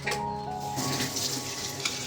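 Bon-style pitha cakes fry in a pan at home, giving a steady, close sizzle of hot oil that carries on without pause.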